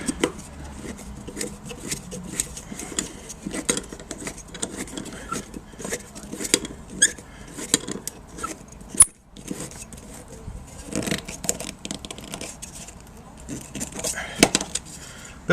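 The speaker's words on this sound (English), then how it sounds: "Allen keys out." Cheap Chinese Allen keys handled during a Volkswagen T5 campervan build, giving a busy run of close metallic jingles, clicks and taps scattered throughout, with a short pause midway.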